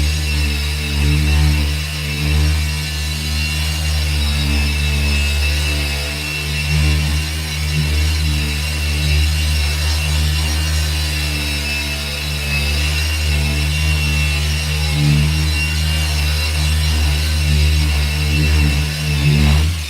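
A car polishing machine drones steadily and loudly for the whole stretch, a constant close motor hum with slight wavering and no talk.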